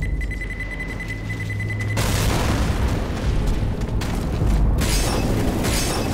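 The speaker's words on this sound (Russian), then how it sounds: "Кто бросил сюда пайпу и все взорвал?" Pipe bomb blast in Left 4 Dead: a sudden loud boom at about two seconds breaks a steady game hum, followed by dense crackling debris and rumble that stays loud to the end, with a second burst near the five-second mark.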